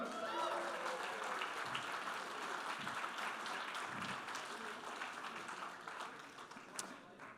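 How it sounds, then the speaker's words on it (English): A comedy panel audience gives sustained applause to welcome back a panelist, the clapping fairly distant and even, with a brief voice near the start. "Let's also keep the applause going as we welcome back the outspoken Rucka Rucka"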